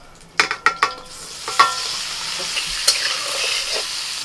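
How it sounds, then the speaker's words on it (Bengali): Boiled jackfruit, cooked with salt and turmeric, goes into a pan of hot oil after potatoes were fried in it. A few sharp clinks and scrapes of stirring give way to a continuous close sizzle of frying. "নুন হলুদ দিয়ে সিদ্ধ করা এঁচড় এবার দিয়ে দিচ্ছি"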